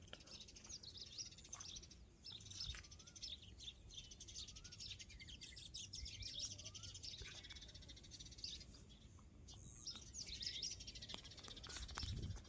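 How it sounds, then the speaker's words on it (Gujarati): Sparrows chirping on a farm in the morning, many quick overlapping tweets scattered throughout, faint and distant over a low steady background hum. "અવાજ સાંભળો ચકલાવના"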